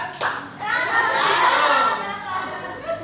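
Young children clap together on a spoken count, a sharp burst of hands followed by scattered claps, with a teacher's voice and kids' chatter mixed in.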